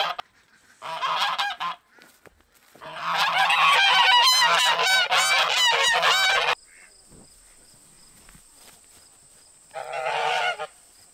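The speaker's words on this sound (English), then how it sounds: "these goose honks" Several geese honk loudly in long, overlapping bursts, pausing briefly between outbursts, close by.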